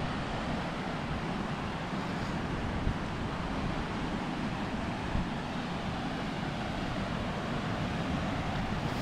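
Broadband rushing water from a flowing stream in Iceland, a steady wash that stays even and fairly loud for the whole stretch, with no voices.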